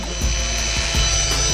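A drywall screw gun is locked off with a few brief mechanical clicks and ratcheting catches, close and fairly loud over a steady background hum, with no talking.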